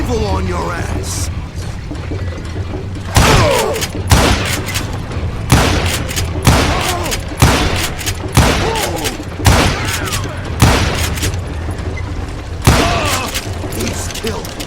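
Rapid bursts of gunfire from the Western shooter video game Call of Juarez Gunslinger, about a dozen loud cracks in uneven clusters over a busy game soundtrack, with voices shouting in between.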